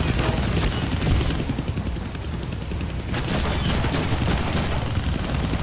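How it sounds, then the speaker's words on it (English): Rapid bursts of gunfire aimed at a helicopter in the Deadpool video game, dense and continuous over a low engine rumble, with a rising whine near the end. "Kill that chopper with my guns"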